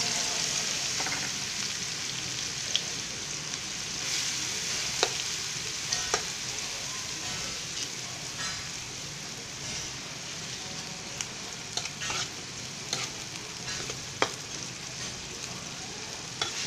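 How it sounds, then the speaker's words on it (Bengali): Sliced onion sizzles in hot oil in a pan, a constant soft frying hiss broken by scattered clicks and scrapes of stirring, heard close up without any talk. "তেলটা গরম হয়ে গেছে, এখন আমি এখানে দিয়ে দিচ্ছি পেঁয়াজ।"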